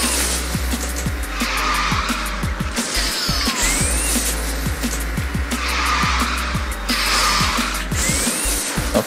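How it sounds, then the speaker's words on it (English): A car slide-drifts in the QQ Speed racing video game, its tires skidding and squealing loudly in long repeated sweeps over a steady engine roar, with no voices. "It's difficult to slide drift here."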